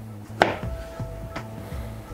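A knife chops food into small squares on a cutting board, making a sharp first strike followed by several quick, lighter taps in an uneven rhythm, close and fairly loud, while the food is prepared as a hot dog topping.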